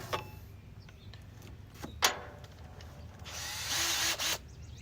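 A 3/16 drill bit enlarges a hole in the glove compartment of a 1966 Ford F100. A few faint clicks come first, then about a second of quiet, grinding drilling.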